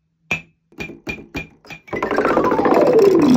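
A cup is tapped with a battery: five sharp, clinking knocks spaced about a quarter-second apart, followed by a denser, sustained clattering swirl with a falling pitch sweep.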